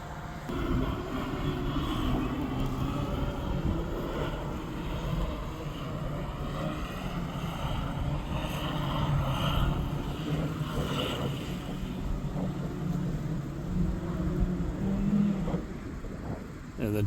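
An Amazon delivery drone flies and comes in to land at the old Pontiac Silverdome site, a steady broadband whir mixed with wind noise that holds throughout and swells slightly as it nears.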